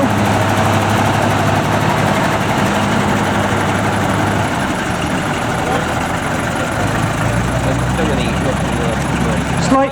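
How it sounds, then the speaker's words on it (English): The engine of a small Austin pickup at a steam rally showground runs steadily and close by for the whole stretch, a low, even idle-like rumble with background voices. "At the very small end of the commercial vehicles, the little Austin pickup now."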